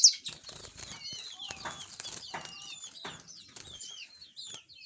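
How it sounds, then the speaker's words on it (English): Domestic canaries in a cage with millet and corn feeders flutter and hop about, giving soft wingbeats, small rustles and thin chirps, close but faint. "These are smart canaries. These are healthy canaries."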